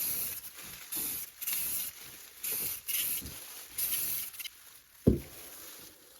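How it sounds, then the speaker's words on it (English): Rust-Oleum gloss clear lacquer sprayed from an aerosol can onto a Phantasm Sentinel model in repeated short hissing bursts, each lasting about a second, with faint handling knocks between them and a sharper clunk near the end. "I applied 2 coats of Rust-Oleum Lacquer in Gloss Clear"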